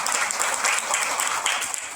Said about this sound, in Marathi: सर्वांनी आपल्या आपल्या शिक्षकांसाठी एकदा जोरदार टाळ्या वाजवून द्यावा